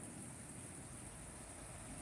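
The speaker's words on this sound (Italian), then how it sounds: "piove sì, però come vedi piove proprio poco" Light, steady rain falling under a sky of heavy clouds, a constant soft hiss with no distinct drops, heard alone.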